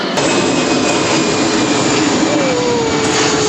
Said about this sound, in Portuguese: Rapidão, um avião.